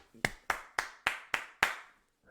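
Six sharp, evenly spaced claps ring out close up in a podcast studio, a slow, deliberate bit of applause from a few hands, and then a brief silence follows.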